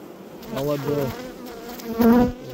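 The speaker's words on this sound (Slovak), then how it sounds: "Vidíte, že tie rámky sú celé obsypané včelami" Honeybees buzz over hive frames densely covered with bees, a soft close hum that swells in a few brief louder surges, with no talking.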